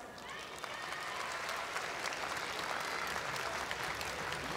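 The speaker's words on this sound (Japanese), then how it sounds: "今一度盛大な拍手をお願いいたします。" A kickboxing event crowd gives sustained applause, a steady broad wash of clapping and crowd noise with a voice over the arena sound.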